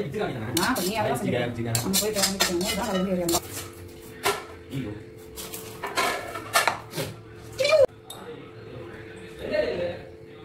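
Plates and dishes being washed by hand, with repeated clinks and clatters of crockery and cutlery in busy bursts, close, while people talk throughout.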